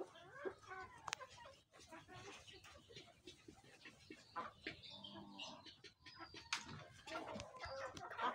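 Domestic chickens cluck and call intermittently on a Beijing and Peking duck farm in Madhaiya, Comilla, with other farm birds and livestock sounds mixed in under occasional talk.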